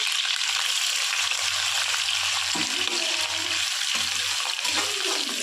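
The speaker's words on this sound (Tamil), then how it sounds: "எண்ணெய் சூடாகிடுச்சு. இப்போ இதில் 10 பச்சை மிளகாய் நம்ம எடுத்து வச்சுருக்கோம். அதோட ஒரு துண்டு இஞ்சியை நம்ம நச்சு வச்சுருக்கோம். அதை இதில் ஆட் பண்ணிக்கிறோம்." Green chillies and a piece of crushed ginger fry in hot oil for a Tamil pickle, a steady close sizzle with faint stirring clatter and low thumps underneath.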